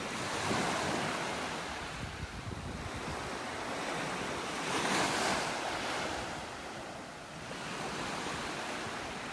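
Ocean waves roll onto a beach in North Naples, Florida, with broad surging washes rising and falling under steady wind buffeting the microphone, no voices.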